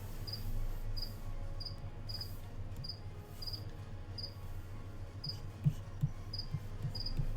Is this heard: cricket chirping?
yes